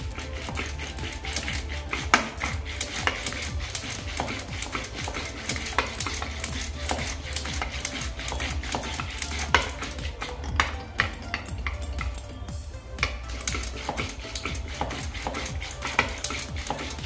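Turmeric is stirred into a buttermilk kadhi mixture, giving a continuous scraping and tapping of a spoon against the vessel, with a busy, rhythmic clatter close up and a few sharp clinks.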